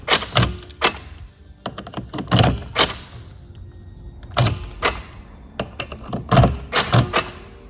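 A key slides into the ignition switch of a Porsche Boxster 987.1, giving repeated crisp metallic clicks and tumbling clatters in several close bursts with brief pauses between them.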